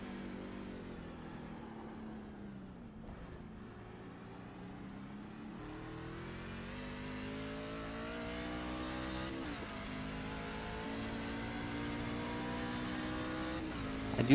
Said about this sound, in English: Let's take a lap around this place here, inboard one of these trucks.